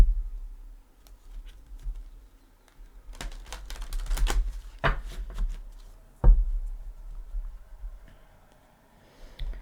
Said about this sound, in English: But I like to shuffle with you here.